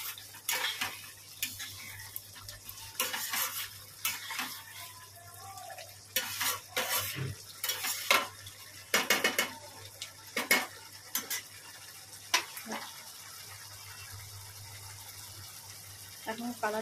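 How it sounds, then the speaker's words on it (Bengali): Meat sautés in a pan that is covered and uncovered in turns, a low sizzle running beneath frequent clanks of a spoon and lid against the metal and bursts of stirring. "মাংসটা দিয়ে আমি কষাচ্ছি ভালো করে, ঢাকা দিয়ে দিয়ে কষাচ্ছি তাড়াতাড়ি সেদ্ধ হয়ে যাওয়ার জন্য।"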